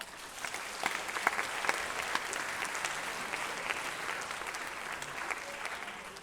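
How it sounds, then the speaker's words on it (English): At an arts festival closing ceremony, an audience applauds to welcome boys to the stage, a dense, steady wash of many hands clapping that runs on without pause, moderately distant and with no speech over it. "please welcome the boys to the stage, and give them a huge, huge clap."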